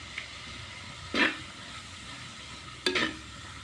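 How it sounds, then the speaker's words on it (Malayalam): Onions sizzle in hot ghee in a pan for a jackfruit biryani, a soft steady fry broken by two brief scraping stirs, close by with no talking. "ഇനി നമുക്ക് സവോള ഇട്ടിട്ട് വഴറ്റാം."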